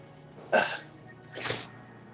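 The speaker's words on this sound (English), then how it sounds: "I got the sniffles." Two sniffles through the nose, close and fairly quiet, the first sharper and the second a longer breathy draw, with a faint hum of background.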